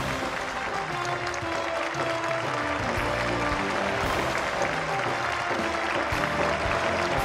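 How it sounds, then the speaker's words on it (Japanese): A stadium crowd at a J2 match applauds steadily as FC Machida Zelvia welcome the Emperor's Cup champions Ventforet Kofu with a guard of honour. The clapping is a dense, continuous wash of sound from many spectators, without pause. "皆さん大きな拍手をお願いします。"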